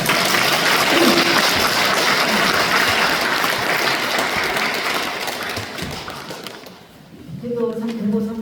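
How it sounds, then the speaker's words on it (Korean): Congregation applause rings out at a Won Buddhist temple installation ceremony in Korea, a sustained patter of many hands that fades out before a speaking voice resumes near the end. "박수 한 번 더 칠까요?"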